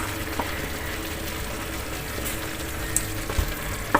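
Cauliflower frying in a pan as it is stirred, a steady close sizzle with occasional faint scraping clicks from the utensil, no voices.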